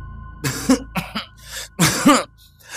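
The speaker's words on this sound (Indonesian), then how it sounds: "suara batuk itu masih saja mengganggunya" A person coughs repeatedly in dry, harsh bursts, several coughs in quick succession with a throat-clearing quality, close by.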